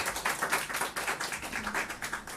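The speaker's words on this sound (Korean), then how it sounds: "너무 감사의 박수를 한번 전하겠습니다" A church congregation at a Sunday worship service in Seoul claps together in thanks, a steady patter of many hands that holds for a couple of seconds at moderate, slightly distant level with no voices over it.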